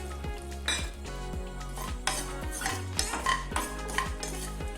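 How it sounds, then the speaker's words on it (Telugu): Green chillies and garlic fry in a pan for a mint chutney, giving a steady sizzle. A metal spoon stirs and scrapes, with repeated clinks and knocks against the pan. No one speaks. "పచ్చిమిర్చి కాస్త వేగాక ఇందులోకి వెల్లుల్లిని కూడా వేసుకుందాము."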